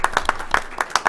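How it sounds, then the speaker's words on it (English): A small audience claps at a school board meeting, several distinct hand claps in a loose, uneven rhythm, close and moderately loud over about a second. "So, round of applause."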